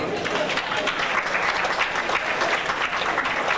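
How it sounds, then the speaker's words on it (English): Sustained applause from a live show audience, steady and dense throughout, with voices faintly mixed into the clapping. "Let's give another round of applause."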